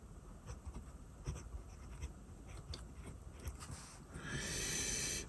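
A Kaweco Lilliput fountain pen with a brown ink cartridge scratches across 282-year-old paper in faint, close strokes with short pauses, followed by a brief louder rustle near the end.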